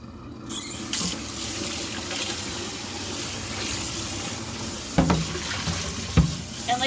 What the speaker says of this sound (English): you can either rinse the ham off